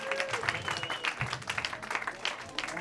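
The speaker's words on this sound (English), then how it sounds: "Another round of applause for Miss Denise Williamson." Audience applause at a dive bar comedy show, steady clapping filling the room for a few seconds with faint voices and a brief whistle-like tone mixed in.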